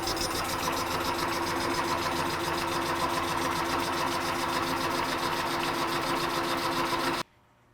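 A lathe facing off a 4140 steel part with cheap 432 inserts gives a steady, close mechanical whir with a fast, even rattling pulse that continues evenly before cutting off abruptly.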